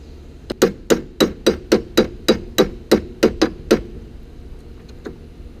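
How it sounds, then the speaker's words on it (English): Hammer blows drive a pin out with a punch while removing a spike held by a 2mm set screw: about fourteen sharp metallic strikes in a steady, even rhythm, close and loud, then quiet. "You got to drive this pin out"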